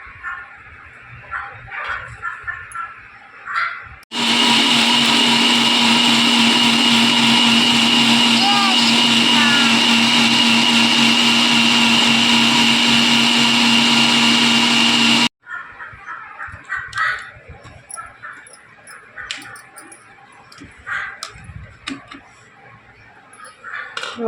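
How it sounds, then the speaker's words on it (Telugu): After a stretch of quiet handling, a kitchen mixer grinder blending raw coconut with water roars on loud and steady for about eleven seconds, then cuts off abruptly, with soft clatter before and after. "దీన్ని ఇప్పుడు మిక్సీ చేసుకుందాం"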